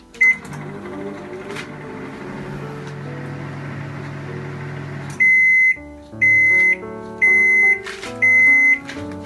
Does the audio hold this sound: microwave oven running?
yes